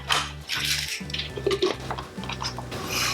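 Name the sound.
knife chopping a green onion stalk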